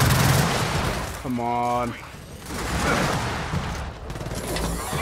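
Gunfire from a persistent hidden robot sniper in the video game Gears of War 4, with bursts of shots and a sharp mechanical whine amid battle noise, while someone talks briefly over it.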